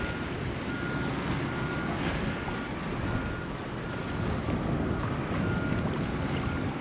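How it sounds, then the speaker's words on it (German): A motorboat running on only one engine gives a steady broadband drone mixed with wind and water rush, constant and close throughout with no talk. "Wir fahren nur mit einer Maschine und hoffen, dass wir es bis dahin schaffen."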